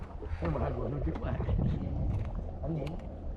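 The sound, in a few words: wind blowing at sea on a fishing boat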